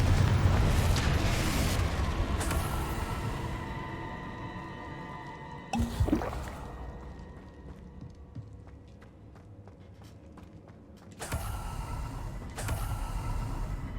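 A Confringo fire spell explodes in the video game Hogwarts Legacy: a sudden loud blast bursts out midway and another follows later, both over a steady bed of game music and ambience.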